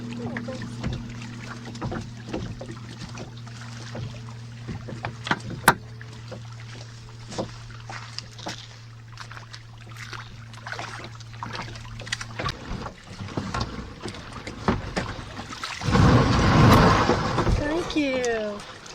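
Kayak paddling on water during a rainy outing, with soft splashes and trickles under a steady low hum and people talking nearby, ending in a louder burst of splashing water.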